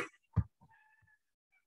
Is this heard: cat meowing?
yes